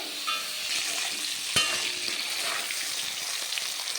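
Potatoes frying in oil in a pan for a Bengali green bean and prawn dish, a steady, soft crackling sizzle with one brief sharp knock partway through, fairly quiet and without voices.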